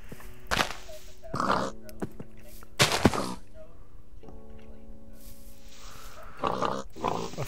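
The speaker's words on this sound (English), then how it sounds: "Found pigs." Pigs grunting in Minecraft with the Tekkit modpack, a few short bursts of grunts and oinks spaced apart, separated by quieter stretches with faint tonal game sound.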